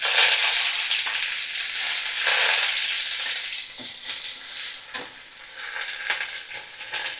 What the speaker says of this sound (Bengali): কুচনো পেঁয়াজ দিয়ে দেব